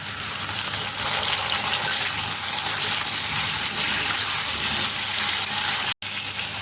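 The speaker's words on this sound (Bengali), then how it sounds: "সয়াবিনটা ছেঁকে আমি ভালো করে ধুয়ে নিচ্ছি" Soya chunks being rinsed under a running tap, a steady loud gush of water that continues almost without break, with a very brief cutoff near the end.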